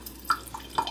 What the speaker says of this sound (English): As you can see, it's dripping.